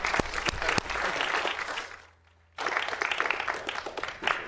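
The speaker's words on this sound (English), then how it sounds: "Can we clap?" Audience applause at a city council meeting as certificates are handed out, dense clapping that stops abruptly partway through, leaving a brief near-silent gap before the clapping resumes just as loudly.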